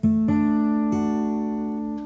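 A child's guitar rings out with a chord strummed once, then struck again twice, each time with one more finger pressed on the fretboard. The tones are close and clear and sustain between strums, with no voices.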